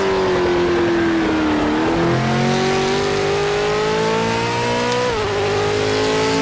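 A V8 supercar in a racing video game revs loudly and continuously, its engine pitch climbing and dropping with gear changes, with no voices over it.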